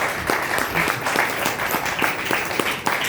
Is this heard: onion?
no